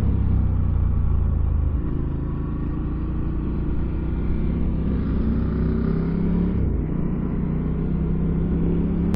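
A Ducati 1290 motorcycle out on a north-side road ride gives a loud, steady engine rumble that holds for the whole stretch, with a brief dip in pitch near the end.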